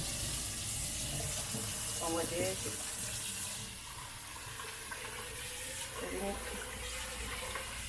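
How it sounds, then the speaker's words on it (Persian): Bulgur is rinsed under running tap water in a kitchen sink, a steady close splashing and gushing stream with brief swishes as the grains are stirred, while someone speaks over it. "من خودم همیشه مثل برنج که میشورم بلغورم هم 1-2 دفعه رینس میکنم"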